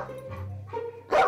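A dog gives a short series of yips and whimpering barks, close and fairly loud, ending in one sharper bark.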